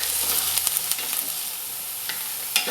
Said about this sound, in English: And now saute the onions for 8 to 10 minutes until golden brown.